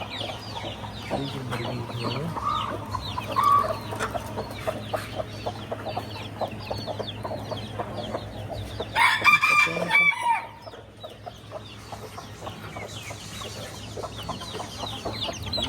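Hens cluck steadily in a farmyard, one of them limping, while a rooster crows loudly partway through, with scattered bird calls around them.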